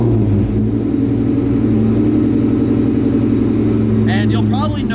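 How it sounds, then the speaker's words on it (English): A car fitted with an intercooled Vortech V3si supercharger idles with a steady, low rumbling drone, fairly loud and close, while a person talks briefly near the end. "Now, we start it and let it idle for a good minute or two."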